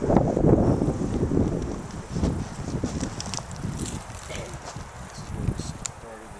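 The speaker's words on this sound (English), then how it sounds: "Pines blowing in the wind." Wind blows through pine trees in a national forest canyon in northern New Mexico, a steady rushing whoosh that fills the scene, with a person talking over it.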